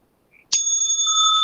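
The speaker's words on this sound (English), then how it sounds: "The timekeeper will ring the bell once" A single ring of a debate timekeeper's bell, a sharp metallic strike with a clear ringing tone that sustains and slowly decays, loud and close after a brief near-silence.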